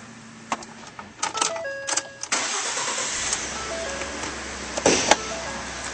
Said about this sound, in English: Now we'll start up this vehicle.